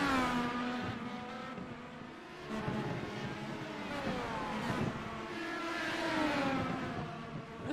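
Race cars roar past at Five Flags Speedway during an Indy car cup race, several engines whining and rising in pitch, loud and continuous, with no talking.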